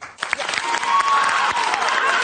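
An audience claps loudly in a dense, sustained burst, with cheering and crowd noise mixed in.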